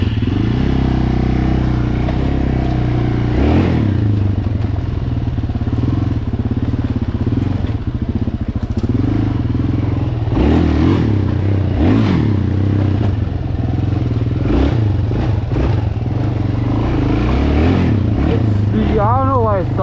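A dirt bike stuck in a swamp revs hard with its wheel spinning, a loud, sustained engine roar with surges and clattering, and a voice occasionally heard over it.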